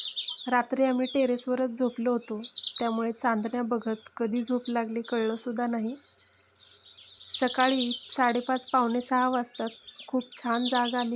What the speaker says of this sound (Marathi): पक्ष्यांचा चिवचिवाट आणि चिमण्यांचा किलबिलाट इतका सुंदर होता